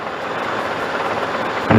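Steady, dense rotor and engine noise from a helicopter in flight during a flying lesson, heard from inside the cabin as a continuous loud drone with a brief bump near the end.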